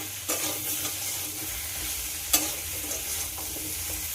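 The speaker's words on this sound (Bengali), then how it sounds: "আবারও সব কিছু খুব ভালো করে ভেজে নিতে হবে।" Potato, pumpkin and capsicum fry in a pan, a steady close sizzle with stirring scrapes and a sharp utensil knock partway through.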